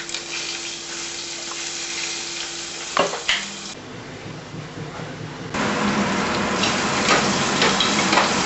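Green chillies fry in hot oil for khichdi, a steady close sizzle with a clattering stir around the middle before the frying swells louder and stays loud to the end.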